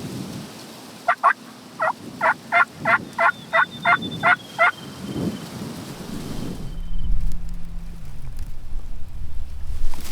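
A rapid series of about ten loud wild turkey gobbles in a burst from several longbeard gobblers and jakes during windy weather in Iowa, followed by a low rumble of distant thunder and steady background noise.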